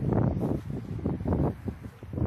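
Strong gusting wind storm buffeting the microphone outdoors in a garden, a continuous loud low roar rising and falling in waves with no talk.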